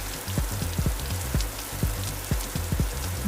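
Rain and hail pelt a car during a storm on Highway 177 toward Stillwater, a steady close patter on the body and roof with irregular louder knocks from hailstones, heard from inside the vehicle.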